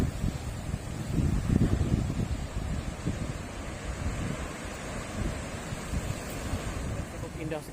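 Strong wind sweeping the south coast of Yogyakarta by the Indian Ocean, a continuous loud roar of wind buffeting mixed with the rush of surf, steady throughout with gusty swells.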